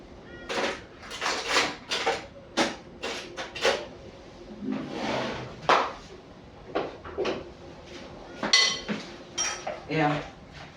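Coleslaw being mixed in a bowl with a utensil: rapid irregular clacks and scrapes of the utensil against the bowl, close and fairly loud, with bursts of rustling between the knocks.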